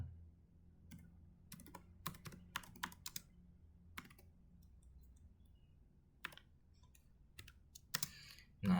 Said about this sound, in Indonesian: mengetikkan